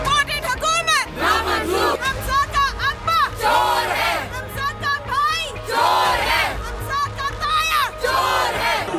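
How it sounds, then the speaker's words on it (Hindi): Crowd of overseas Pakistani protesters in the United States chanting 'chor chor' slogans against the visiting prime minister, loud rhythmic massed shouting that repeats in waves throughout. "चोर चोर के नारों ने अमेरिका में भी पीछा ना छोड़ा।"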